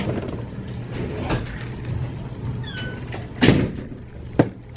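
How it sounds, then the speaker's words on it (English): A door is shut in a room, with a sharp thud partway through and a second shorter knock near the end, over a low background hum. "shut the door for me, please"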